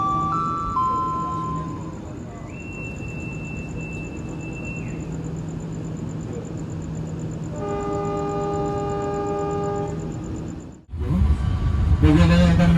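KA Blambangan Ekspres train bound for Semarang departing the station, with long sustained horn tones over a steady rumble, then a loud burst of clatter as the train moves off; a voice speaks briefly in the background.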